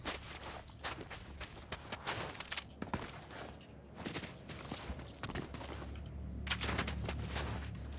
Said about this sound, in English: I hear gunfire, bro.